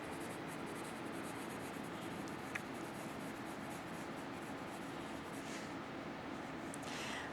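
A pencil lightly shades across paper with little pressure, a soft continuous scratchy rubbing that stays faint and even for several seconds with no talk.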